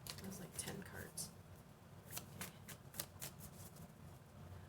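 Tarot cards riffle and slap in a series of crisp bursts, close and fairly soft, with a voice murmuring underneath.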